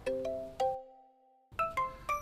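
Melodic electronic phone ringtone chiming in short repeated bursts of bright tones, loud and close, with a brief gap of near silence between phrases.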